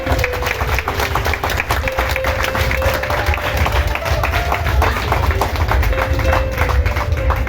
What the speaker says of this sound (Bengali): তো জোরে একবার হাততালি হয়ে যাক সবার জন্য